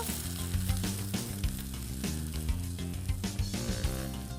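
Sliced mushrooms sizzle and fry steadily in a pan for a casserole dish, a dense continuous crackle with faint stirring clatter, close and fairly loud, with no talking.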